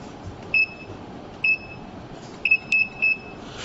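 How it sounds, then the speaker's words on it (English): Several short electronic beeps from a portable body temperature measuring instrument on a tripod stand, spaced unevenly, with a quick double beep near the end, clear against quiet room noise. "Then after a long beep, it's stable."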